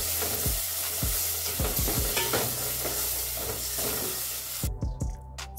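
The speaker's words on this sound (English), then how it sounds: "give this a nice mix." Chopped mushrooms stirred with curry powder in a hot pan, a steady sizzle with repeated scraping strokes of a spoon against the pan roughly every half second, close and alone.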